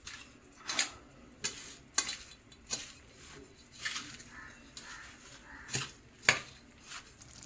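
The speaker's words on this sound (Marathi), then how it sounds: "आपण इकडचं हे सर्व मिश्रण एकत्र करून घेऊया" Laddu mixture with melting jaggery stirred in a pan: a spoon scrapes and knocks against the metal in a rhythmic series of about a dozen strokes, close and fairly quiet, with a faint sizzle underneath.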